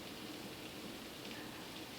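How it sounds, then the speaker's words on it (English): Steady rain falls outside an open door, a soft, even hiss of drops that carries on evenly and stays faint and distant, with no one speaking. "I like the sound of the rain."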